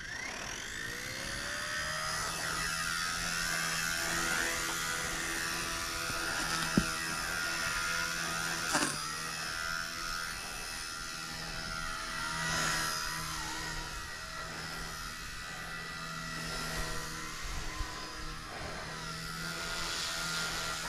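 A K110S RC helicopter flying outdoors over grass, its high whining rotor and motor tone rising and falling continuously as it maneuvers nearby.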